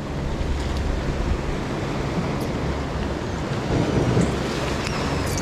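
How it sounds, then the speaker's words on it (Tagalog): Big ocean swells and wind roar around a fishing boat out at sea, a steady wash of surf and gusting noise holding constant throughout with a slight surge near the end. "Grabe, lalaki ng alon."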